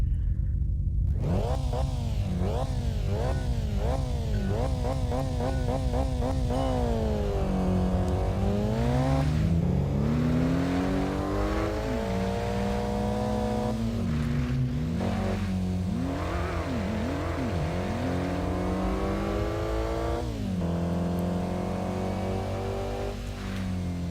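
A race car in Kaido Racer launches and accelerates hard, its engine climbing through repeated rising whines with gear shifts, then dropping and surging again through bends, loud and continuous throughout.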